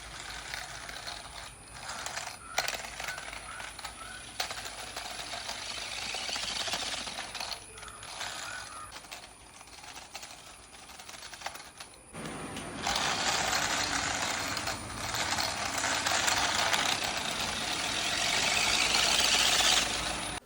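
A Mirana Warrior RC stunt car drives with a steady whirring electric motor and gear noise that grows louder and brighter partway through, running continuously and close by.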